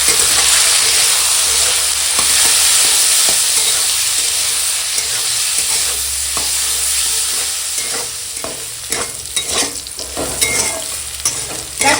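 Sliced bitter gourd sizzles in hot oil with salt and turmeric over a tempering of dried red chilli, a steady loud frying hiss broken by repeated scraping and stirring strokes, with no talking.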